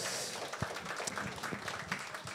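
A studio audience at a late-night talk show claps briefly, a soft scattered patter of hands at moderate distance.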